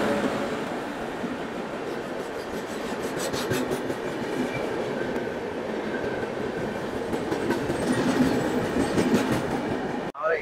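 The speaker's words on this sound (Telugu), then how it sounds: "కరెక్ట్ టైంకే వస్తుంది ట్రైన్ అయితే" A passenger train pulls in at a station on a Vizianagaram route, a steady loud rumble of rolling wagons with rhythmic clickety-clack and metallic rubbing over the whole stretch, no talk.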